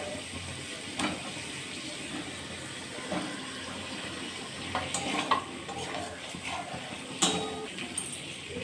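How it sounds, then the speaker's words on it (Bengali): Pointed gourd pieces stirred into spiced oil in a pan, a quiet, steady sizzle with occasional scraping and tapping of a spatula, no talk. "মশলা থেকে তেল ছেড়ে দিয়েছে, দিয়ে দিচ্ছি পটল।"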